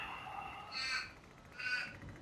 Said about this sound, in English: I've got the crows going bananas up there.